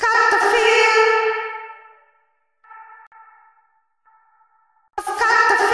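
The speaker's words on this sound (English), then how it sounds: "Transients can be super useful because they can mask and blend your reverb, making some sort of a groovy glue." Bright reverberant synth or keyboard tones processed through the Baby Audio Crystalline reverb plugin, a loud chord swelling then decaying into a long shimmering tail, faint echoing repeats, and another loud burst at the end, with no voices.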